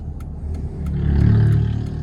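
A Mercedes E230 car accelerates, its engine rising from a low rumble to a louder, strained drone over about two seconds, with a few light clicks and clatters along the way.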